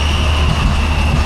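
Roller coaster trains being loaded and dispatched at an indoor ride at Hyde Park Winter Wonderland, a loud, steady mechanical rumble and hum with no talk.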